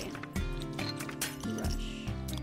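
Repeated bright clinks of champagne glasses in the Alicia Online video game, several sharp chimes spaced irregularly over a steady musical backdrop.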